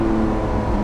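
A straight-piped Lamborghini LP770-4 Superveloce Jota in Corsa mode roars close and loud, its engine note holding a dense, sustained growl.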